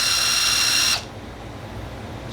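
A Festool TID18 cordless impact driver runs at its lowest speed setting with a steady high whine for about a second, then cuts off, leaving quiet room noise.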